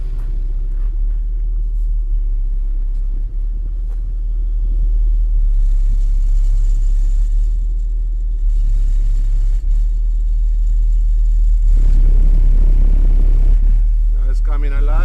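Four Fi HC18 car subwoofers driven by two Crescendo 17k amplifiers at 1 ohm produce a loud, continuous deep bass rumble that fills the clip, swelling stronger near the end as the level is turned up.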